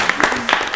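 A brief burst of scattered hand clapping at a county board of commissioners meeting, a few people applauding in a room, quick and close.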